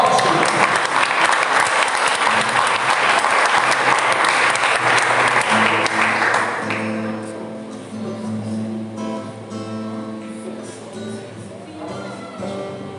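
Church congregation claps hard for about six seconds, a loud dense roar of applause that then fades under sustained worship music with voices continuing.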